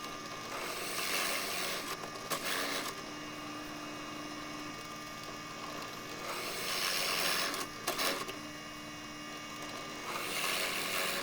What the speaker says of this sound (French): Grâce au laser Vevor, je viens graver le repérage des connecteurs ainsi que les axes de perçage.